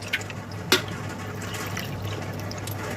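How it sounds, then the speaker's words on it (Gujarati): Water pours from a small bowl into a homemade tomato ketchup mixture with red chilli, garlic and ginger, a soft, steady liquid splash with a couple of brief clicks and knocks, heard close with no talking. "આટલી જ વાટકી આપણે પાણી એડ કરીશું."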